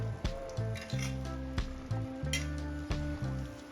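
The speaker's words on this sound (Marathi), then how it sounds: "आवळे व्यवस्थित हलवून घ्यायचे म्हणजे ते व्यवस्थित एकसारखे शिजले जातील" Amla simmering in melted jaggery and sugar while being stirred, giving a steady close sizzle broken by repeated short scraping strokes of a spoon against the pan.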